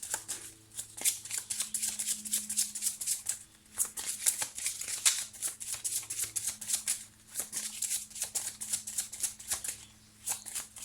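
Petit Lenormand cards are shuffled by hand for a reading, giving repeated crisp riffling and flicking bursts in an uneven rhythm, close and fairly quiet, with no talking.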